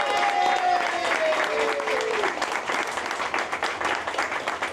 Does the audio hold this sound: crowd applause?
yes